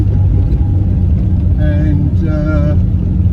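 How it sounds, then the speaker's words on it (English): The engine of a 1955 Jaguar XK140 SE produces a steady, smooth low rumble while driving on broken backcountry roads, loud and continuous throughout, with a brief tonal whine partway through. "I really like the way this drives. Very smooth engine"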